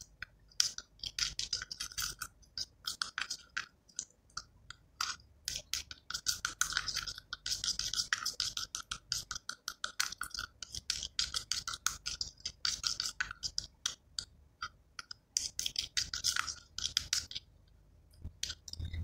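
Face bleach cream stirred together with activator cream in a small dish, a close, steady run of quick scraping and clicking strokes for nearly twenty seconds.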